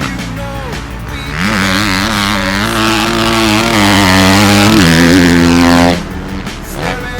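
A 2014 Suzuki RM-Z250 motocross bike ridden hard past, its engine rising into a loud, buzzy rev that holds steady and climbs for several seconds, then drops away as it passes.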